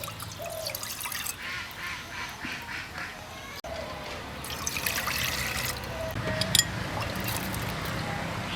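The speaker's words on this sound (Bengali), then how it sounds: "মুগ ডালটা সিদ্ধ করার জন্য চুলে আমি দিয়ে দিচ্ছি দুই কাপ পানি" Two cups of water splash and gurgle into a pot of moong lentils on the stove in uneven bursts, close up, with some clattering; a steadier pour swells toward the end.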